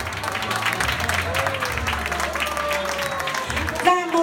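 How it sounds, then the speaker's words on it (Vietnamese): An audience at a Vietnamese food company's Thanksgiving party claps steadily, a moderate wash of applause with low rumbling room noise underneath and a brief voice near the end. "Xin quý vị một tràng vỗ tay thật lớn."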